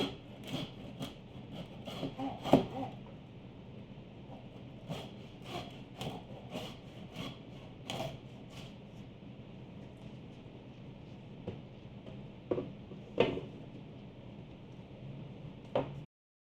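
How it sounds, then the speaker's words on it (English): A hacksaw cuts straight across lamb rack bones, giving a steady, quiet rasping scrape with sharper strokes standing out here and there over a continuous low background. "And with the hacksaw, we're just going to come through."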